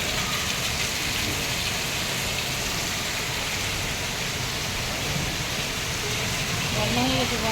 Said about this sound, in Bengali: দেখো কত পরিমাণে বৃষ্টি হচ্ছে।